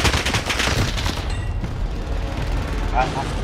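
Gunfire in a Portuguese-language online shooter match, a steady dense barrage of shots and impacts filling the whole stretch, loud and close, with players talking excitedly over it.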